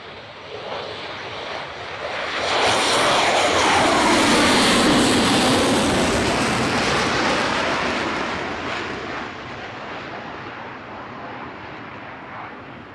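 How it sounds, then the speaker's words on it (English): A Royal Danish Air Force F-16 jet powers up and rolls down the runway at an airshow, its roar swelling to a loud, broad rumble and then gradually fading as it climbs away. "F-16 shortly to power up and release into a spectacular display from the Royal Danish Air Force"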